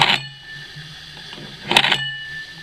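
An old broad axe from 1860-1900 is sharpened on an American-made block sharpener, giving two brief, sharp metallic scraping strokes with a ringing tail, spaced under two seconds apart over a quiet hum.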